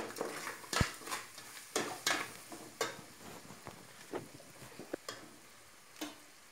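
Irregular scraping and clinking of a spoon stirring a tomato and spice masala in a pot for a mushroom biryani, with a faint background sizzle, close and moderately quiet.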